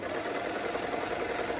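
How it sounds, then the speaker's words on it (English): An overlocker stitching around the bottom hem of a ten-layered net petticoat, a steady continuous mechanical whirring and buzzing, close and even throughout, with no voices. "I'm just running all the way around this on the bottom. And as you can see on the overlocker"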